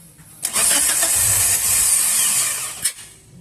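A 2007 Geely CK with a 1.5L engine cranks and fires up, a loud burst of starter whir and engine roar lasting about two and a half seconds before cutting off, close to the microphone with no talking.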